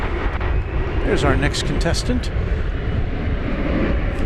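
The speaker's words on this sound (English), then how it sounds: "It's an Embraer 170 American Eagle going to Amarillo, Texas." An Embraer 170 American Eagle regional jet at DFW Airport gives a steady, broad engine roar that fills the whole stretch, with people talking over it.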